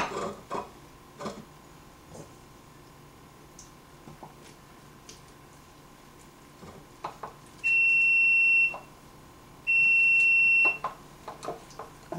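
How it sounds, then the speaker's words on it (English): An oven signals it has preheated to 325 degrees: two sustained electronic beeps, each about a second long, two seconds apart, over faint kitchen clatter and background noise. "325 oven beeping at me."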